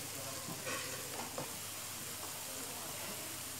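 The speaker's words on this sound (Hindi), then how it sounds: "जो लहसुन है वो ज़रा फ्राई हो गया" Garlic paste frying in a pan gives a steady soft sizzle and hiss, with occasional scraping stirs breaking through the continuous crackle.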